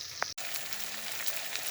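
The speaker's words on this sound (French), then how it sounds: "je les ai toutes installées dans ma poêle. Elles sont en train de frire" White hake pieces frying in a pan, Moroccan style, with a steady dense sizzle and crackle throughout and a brief stir.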